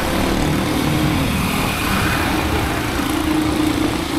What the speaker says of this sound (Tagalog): Grabe yung traffic na.